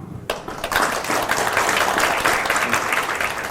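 Audience at a Korean book concert applauds to welcome a National Assembly member onto the stage, steady close clapping starting abruptly and holding through the clip.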